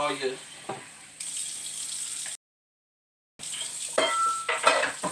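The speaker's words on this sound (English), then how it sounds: "Then you bring you some cold water in your pot." Cold tap water runs into a pasta pot in a home kitchen, a steady hiss and splash that breaks off into a second of silence, then resumes with clinks and stirring noises close by.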